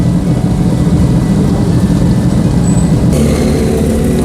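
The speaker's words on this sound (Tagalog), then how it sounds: "Traffic masyado dyan." Steady, loud road traffic on a busy street with cars, engines and bikes passing, a continuous low rumble with no voices throughout.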